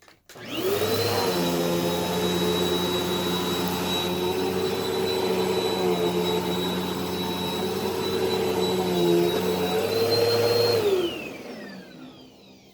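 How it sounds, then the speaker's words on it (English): A Bissell PowerForce Helix Turbo Rewind Pet (1797) upright vacuum runs over carpet, its steady whining motor drone holding loud and even for about ten seconds before spinning down, with no talking. "now you can resume with vacuuming your carpets"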